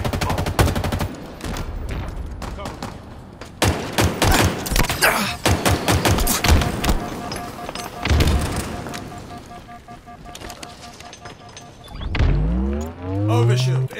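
Halo Infinite multiplayer firefight: rapid bursts of automatic gunfire and sharp shots crackle near and loud throughout, with thuds and a vehicle engine rising at the end, while a player talks over the action.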